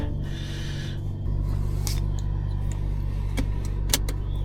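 BMW M340i inline-six engine running at a steady low idle just after start-up, heard from inside the cabin at night, with a few faint clicks and interior mechanical sounds over the constant hum; no one speaks.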